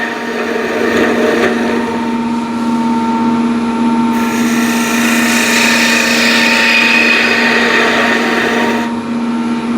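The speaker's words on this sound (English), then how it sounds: "Now with the spindle gouge, I'll just quickly" A spindle gouge shapes a spinning piece of wood on a lathe, producing a steady motor hum under a continuous hissing, scraping cut. The cut grows louder and brighter midway, then eases off, with no talk.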